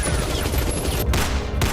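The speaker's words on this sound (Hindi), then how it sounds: "रोहतक के रेसलिंग स्टेडियम में गोलियों की गरज जब थमी तो 27 साल के पहलवान अंकुश त्यागी की सांसें" Gunfire rings out at a wrestling stadium in Rohtak, a dense continuous crackle of rapid shots that lasts the whole moment and ends in a couple of sharp bursts.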